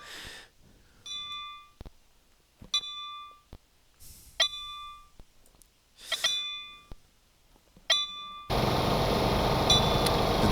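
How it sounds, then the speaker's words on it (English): A bright metallic locomotive bell on a Metra F40PH-3 in the game Stormworks dings at a slow, uneven, lag-slowed pace, five or six strikes with gaps between, before a steady wash of noise takes over. "The bell kind of just sounds bad if it's like slowed down and stuff because of lag."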